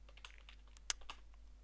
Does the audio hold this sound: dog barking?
no